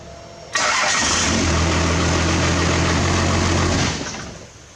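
A car engine with a newly fitted starter cranks and fires at once, catching into a loud, even rev and idle for a few seconds before dying down, close and without any talking.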